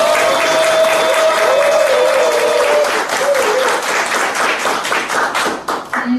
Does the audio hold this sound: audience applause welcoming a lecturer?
yes